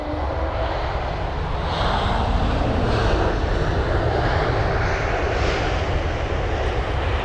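A Lufthansa Airbus A320neo jet landing at London Heathrow, a steady, loud broadband roar of engines and reverse thrust holding for several seconds with no voices over it.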